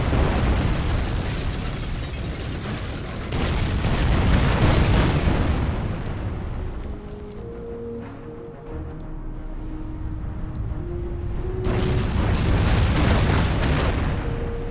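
Naval cruiser artillery in the video game Order of Battle, heavy booming blasts and rumbling explosions in sustained waves, easing into a quieter stretch with game music before swelling again.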